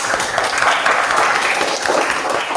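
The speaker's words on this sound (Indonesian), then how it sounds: "kasih tepuk tangan untuk kelompok 3" Classroom of students clapping for a student group in a Hindu religious education lesson, a brief, dense patter of applause at moderate loudness.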